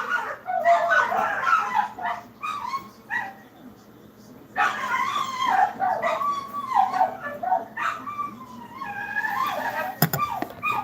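A dog yips, whimpers and barks in short bursts indoors, with people talking throughout and a sharp click near the end.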